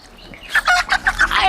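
A chicken clucks in a quick run of short, loud, close calls in a Bangladeshi rural setting.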